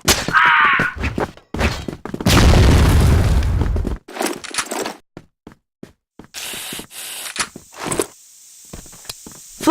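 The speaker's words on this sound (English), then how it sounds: "Flash bomb." Flash bomb grenade detonating in a close-quarters shooter video game, a loud booming burst amid rapid gunfire, thumps and footsteps, followed by a ringing high tone and scattered shots.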